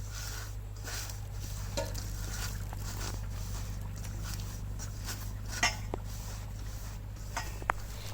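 Pabda fish being mixed by hand with breadcrumbs and turmeric in a bowl, soft continuous wet stirring and squelching with a few light clinks of utensils against the dish, over a steady low background hum.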